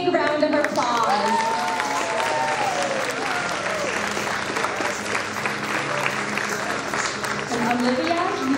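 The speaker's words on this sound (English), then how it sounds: "Let's give them another big round of applause." Audience applause at a small-town pageant, continuous clapping from a crowd with cheering voices and an announcer's speech layered over it.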